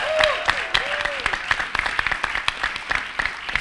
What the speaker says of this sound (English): Give her a big round of applause on this last day.